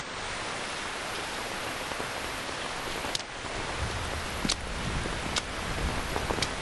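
Steady rain falls in the video game Metal Gear Solid 3 Snake Eater, a dense even hiss with a few sharp brief clicks scattered through.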